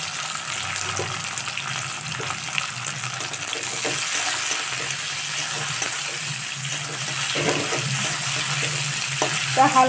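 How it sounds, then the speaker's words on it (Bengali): Washed cashews and raisins fry in hot oil with a loud, continuous bubbling sizzle and spoon stirring, with some watery spattering and a few clinks near the end. "তেলটা আমার গরম হয়ে গেছে, এতে ধুয়ে রাখা কাজু কিশমিশটা আমি দিয়ে ভেজে নেব।"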